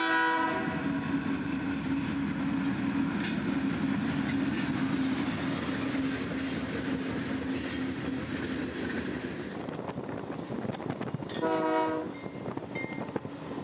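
CSX train 781 rolls past on the Brooksville Subdivision in Florida, a loud, close, continuous rumble of wheels and cars, with the multi-tone train horn sounding near the start and again in a strong blast near the end.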